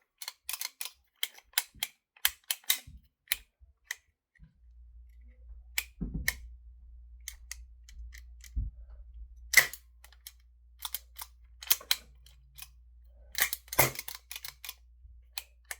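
An empty Colt M45 CQBP 4.5 mm airgun with no BBs left is dry-fired repeatedly, giving sharp, close mechanical clicks and snaps in an irregular sequence over a quiet background with a faint low hum.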